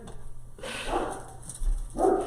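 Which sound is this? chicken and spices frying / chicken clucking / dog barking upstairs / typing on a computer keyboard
dog barking upstairs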